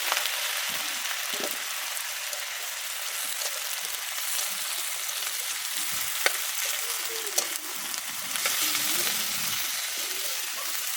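Softened chicken feet for adobo fry in a pan with a steady, fairly quiet crackling sizzle, broken by a few faint clinks and scrapes of a utensil, with no talking.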